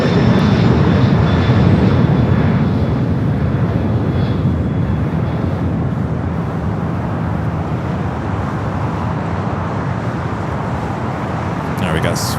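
UPS flight 903 departing Los Angeles airport gives a loud, steady jet engine roar that holds for the whole stretch, with radio voices over it.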